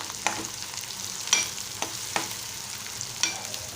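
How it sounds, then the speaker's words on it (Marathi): Onion and green chilli fry in oil for a Malvani-style tomato dish, a low steady sizzle broken by several sharp clinks and scrapes of a spoon stirring the pan, no voices. "आता हे छान तेलात भाजू देणार आहोत दोन मिनटं"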